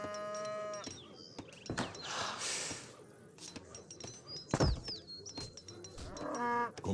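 Cattle lowing in the strategy game Age of Empires III: Definitive Edition: several loud, drawn-out moos sound near and clear, with game clicks and ambient sounds around them.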